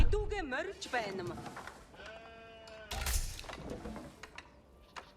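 Sheep bleat a few times in Age of Empires, wavering calls mixed with sharp clicks and other game sound effects.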